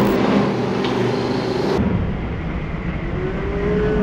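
A heavy truck engine rumbles loudly and revs close by, a deep continuous drone with a shift in pitch partway through.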